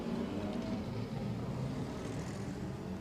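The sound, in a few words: Lauda Classic race cars pulling away on rolling start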